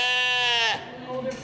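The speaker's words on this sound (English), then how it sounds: "A few loud baas, and several more, is the soundtrack of 4-H Sheep Camp." Sheep at a 4-H sheep camp let out a loud, drawn-out bleat up close, trailing into quieter bleats and background voices.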